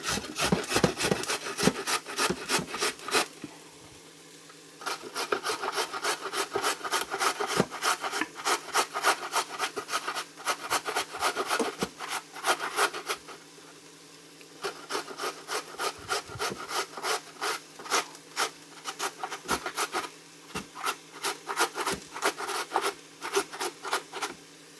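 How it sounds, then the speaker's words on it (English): A carrot is grated on the large side of a grater in a rapid series of rhythmic, raspy strokes, close and clear, with two short pauses between bursts. "what I'm going to do with the carrot is I am just going to grate that in and use the large"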